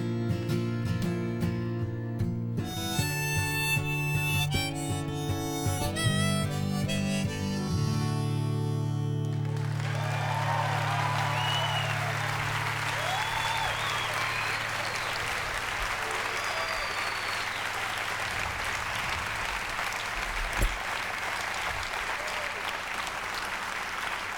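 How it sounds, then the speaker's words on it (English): Audience applause at a concert in Chicago, following a sustained band chord that rings out for the first several seconds, then a dense, steady wash of clapping and scattered whoops that continues loudly to the end. "You don't have to clap that much."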